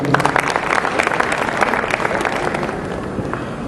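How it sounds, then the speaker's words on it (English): Audience applause at a sponsors' meeting, a steady dense patter of many hands clapping throughout, fairly loud and close, with no talk over it. "Give them a round of applause."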